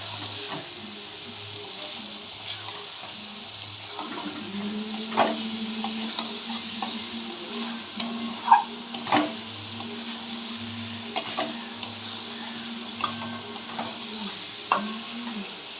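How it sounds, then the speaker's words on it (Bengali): Masala and potatoes being stir-fried for Bengali mutton kosha, a soft steady sizzle under scattered spoon scrapes and clinks against the pan, close and moderately quiet throughout. "আমি এই সময়তে আলুগুলোকে দিয়ে আরও একটু মশলাটা কষবো।"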